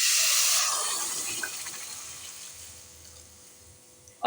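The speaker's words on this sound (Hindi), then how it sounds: "आपने दूध इसके अंदर ऐड कर लेना है" Milk poured into a pan of roasted vermicelli for a mango seviyan dessert, a loud hissing, sizzling rush that is strongest at the start and gradually fades, with a short clank right at the end.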